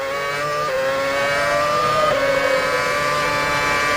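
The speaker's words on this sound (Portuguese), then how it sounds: "O carro que está ali na frente corre com um motor V10 com limitações" Formula 1 car at the 2006 Malaysian Grand Prix, its limited V10 engine wailing at high pitch, shifting once early then sweeping on in a sustained loud scream over trackside ambience.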